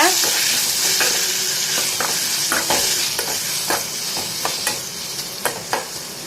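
Chopped onions and tomatoes sauté in a hot pan for a tomato kulambu, a loud, close, continuous sizzle with repeated scraping stirs of a spoon against the metal.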